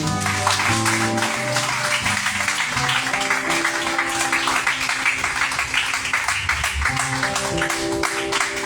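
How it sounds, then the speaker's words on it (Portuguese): A church congregation applauds in dense, sustained clapping that fills the whole stretch, layered over steady worship music with held tones. "e a salva de palmas que adora ao Senhor"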